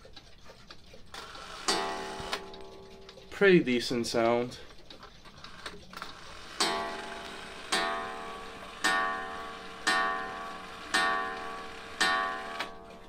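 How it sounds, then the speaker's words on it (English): A shield clock strikes on a coil gong, sounding seven or so ringing chimes at steady intervals, each decaying with a metallic shimmer, while a voice speaks briefly early on. "it strikes on a coil gong, just like my other shield clocks"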